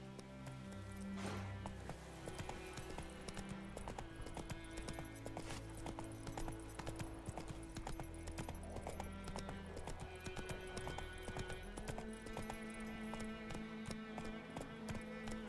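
Horse hooves clip-clop in a steady gallop in The Witcher 3: Wild Hunt, running continuously under layered game music with no pauses.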